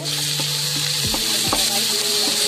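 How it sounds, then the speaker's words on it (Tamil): A paneer and egg mixture sautés in a hot pan with a constant sizzle, broken by a few sharp scrapes and knocks from a spatula as it is stirred. "கொஞ்சம் வதக்கிக்கலாம்."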